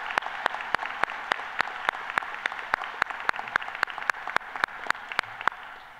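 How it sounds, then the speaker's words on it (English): Audience applause at a University of Illinois College of Medicine white coat ceremony in Chicago, a steady, moderately distant wash of clapping with a few sharp, regularly spaced claps standing out near the front. "So I would like to start by giving them a round of applause at the very beginning."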